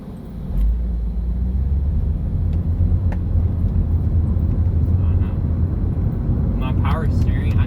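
Honda Accord sliding in a drift, a loud sustained engine roar and rumble of the car close by, steady throughout with a brief squeal-like rise near the end.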